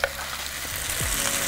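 Pasta sizzling and frying in a little olive oil in a skillet, a steady close crackle with a few stirring scrapes and clatters, no talking.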